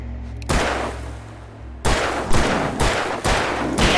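Gunfire in the video game Alan Wake Remastered: one sharp, loud blast that rings out, a pause, then a quick run of about five more close, punchy shots.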